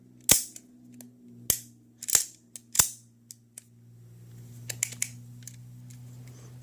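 Remington R51 9mm subcompact pistol being function-checked: four sharp, loud metallic snaps of the slide spaced about a second apart, followed by a run of lighter trigger and mechanism clicks, close up with no talking.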